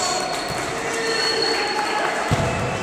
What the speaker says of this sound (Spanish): Ahí aplauden todos porque salen los árbitros a la cancha.